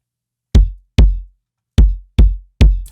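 Five isolated kick drum hits from the first section of a drum sound, punchy low thumps with short decay, loud and close, spaced irregularly with silence between and no voices.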